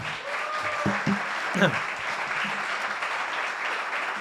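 Audience applause for a speaker at a startup event in Barcelona, a steady broadband patter of many hands filling the room, with a few stray voices and brief exclamations mixed in early on.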